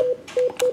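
Three short DTMF telephone keypad tones beep in quick succession as *80 is dialed on a home PBX phone system, each with a small click of a button press.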